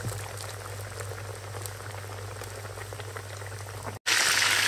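Breaded bull glands frying in a pan of hot fat, a dense steady sizzle and crackle with scattered pops, close and even throughout, then a sudden brief gap followed by a louder surge of hissing.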